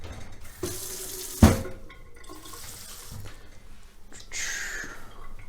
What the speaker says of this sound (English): Put a little bit of water in because otherwise you're just going to spin the blades like an idiot